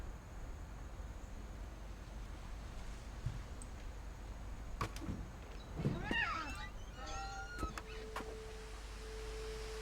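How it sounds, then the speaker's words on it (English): A cat meows a few times in the video game What Remains of Edith Finch, short rising and falling cries at moderate distance over a quiet ambient hum, followed by a steady tone. "I heard a cat."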